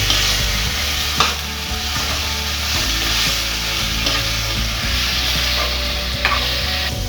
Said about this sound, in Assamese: আলুখিনি ভালকৈ ভাজি ল'ব লাগিব।